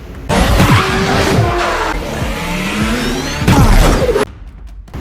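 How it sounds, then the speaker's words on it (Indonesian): Cars race in a chase, engines roaring close and loud with tire squeals, skids and sharp impacts, the noise running continuously before cutting off abruptly near the end. "Mereka saling memacu mobil mereka."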